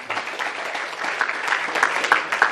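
Audience applause at a community event, a brief burst of clapping from a gathered crowd, fairly loud and steady.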